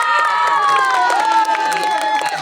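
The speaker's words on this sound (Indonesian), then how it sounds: "tepuk tangan buat Gusti" Children at an Islamic Ramadan overnight gathering shout and cheer together, a continuous excited crowd of young voices for a boy named Gusti, with some clapping mixed in throughout.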